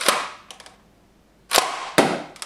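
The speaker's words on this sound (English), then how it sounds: "I'm just going to be shooting it for down this 20-foot hallway, shooting 3 missiles" Nerf N-strike Thunderblast toy blaster firing foam missiles down a 20-foot hallway: three sharp close pops, the first alone, then two more about half a second apart, each followed by a short rattle, with quiet gaps between.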